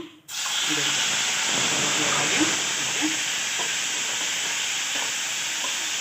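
Chopped tomatoes frying in a pan, a steady close sizzle and hiss lasting throughout, with light stirring taps and scrapes scattered over it.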